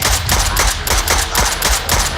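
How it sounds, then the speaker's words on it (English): Rapid cannon fire in the Fallout 4 video game, a dense, loud string of booming blasts in steady rhythm with no talk. "Soldier, man the cannons."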